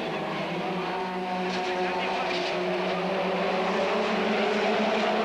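Touring cars racing in the 1989 British Touring Car Championship, including a Ford Sierra, engines droning loud and sustained as they chase down a straight, with a commentator talking over the continuous roar.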